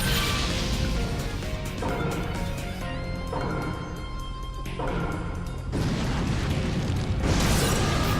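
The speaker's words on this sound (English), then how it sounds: "Fire style, fireball jutsu." A fireball jutsu blast in the Naruto Shippuden Ultimate Ninja Storm 2 video game, a loud sustained roaring explosion with booming, crackling bursts and game music underneath, filling the whole stretch.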